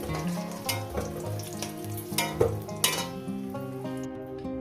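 Large potatoes frying in hot oil for a mutton curry, a continuous close sizzle and crackle with occasional louder spits, alongside steady tonal background sound and no talking.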